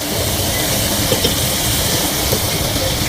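Beef frying in a pot with browned onions for Lahori beef pulao gives a steady, loud, close sizzle with no pauses, a constant hiss under a few faint clicks.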